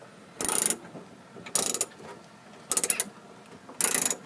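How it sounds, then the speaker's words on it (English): A ratchet clicks close by as nuts are tightened on a Toyota Sienna back door handle. It makes four separate bursts of rapid clicking with short pauses between them, and no talking. "So, we're screwing back these nuts in to hold this thing in place."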